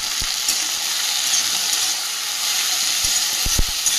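Steady close sizzle of vegetable curry frying with turmeric and salt, with a few soft knocks of a spoon stirring in the pan, continuous and fairly loud, with no talk.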